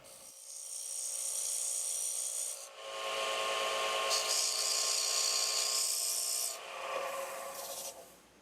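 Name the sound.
Easy Detailer woodturning tool cutting a taper on a tenon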